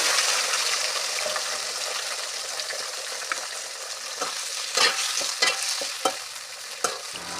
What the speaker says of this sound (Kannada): ಇದಕ್ಕೆ ಹೆಚ್ಚಿಟ್ಟಂಥ ಟೊಮೆಟೊನ್ನು ಹಾಕ್ತಾ ಇದ್ದೇನೆ ರೀ